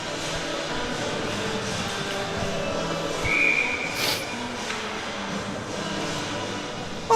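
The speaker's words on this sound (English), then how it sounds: "Perno was going to take no chances and grabbed it for another whistle" A referee's short, sharp whistle blast at a men's college ice hockey game against Buffalo State, heard once, fairly distant, over a steady roar of arena crowd noise.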